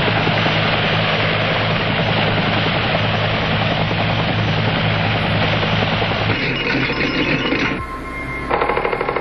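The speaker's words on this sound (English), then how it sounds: "actually be picked up by a helicopter from the water" Helicopter during Cope Thunder military exercise training at Crow Valley Range, a loud, close, continuous rotor chop and turbine roar that shifts tone near the end.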